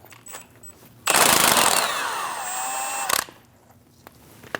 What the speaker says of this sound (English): Using a 22mm socket, remove the nut.